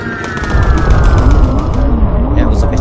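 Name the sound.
aircraft cannons firing in the video game Bomber Crew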